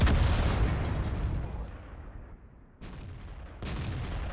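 Tank cannons firing in the World of Tanks video game, a loud booming shot that rolls off into a long fading tail, followed by further heavy blasts, with no talk over them.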